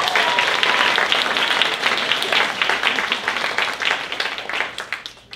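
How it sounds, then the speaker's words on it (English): A festival crowd at the Festival of Fools claps in a lively round of applause, loud at first with distinct claps standing out, then gradually thinning and fading toward the end. "Give her a round of applause."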